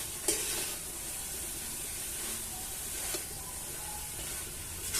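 Cabbage frying with spices in a pan, a low steady sizzle broken by a few sharp clicks of a spatula stirring and scraping, fairly quiet and close, with no talking.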